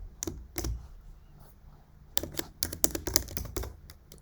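Fingers type on a computer keyboard: a few isolated keystrokes, a pause, then a quicker run of clicking taps nearby, with no speech.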